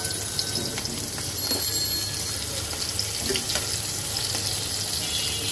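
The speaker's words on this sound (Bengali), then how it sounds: "তো চলো মাছটা আমি ভেজে নেই।" Prawns sizzling in hot oil for a spicy prawn dish, a steady dense crackle and hiss held close and continuous throughout, with no voices.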